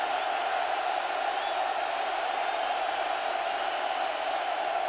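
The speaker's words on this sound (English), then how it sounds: "As if they have to prompt this crowd to make noise on a 3rd down and 8" Crowd noise fills an Oregon football stadium on third down against Oklahoma in 2006, a steady, loud, distant roar of many voices that holds constant throughout with no break.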